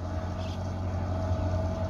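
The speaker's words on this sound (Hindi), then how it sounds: "परकन मैसी 375 बहुत ही आला किस्म का इनका साउंड है दोस्तों" A steady, low rumbling engine drone from a Massey Ferguson 375 tractor running near water in a field, continuous and fairly loud throughout with no pauses.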